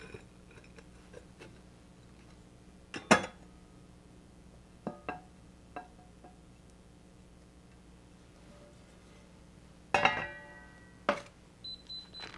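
A blueberry buckle pan is flipped over onto a plate in a quiet kitchen, giving a few sharp metal-on-ceramic clanks and taps, with a louder clatter near the start and another cluster of knocks later.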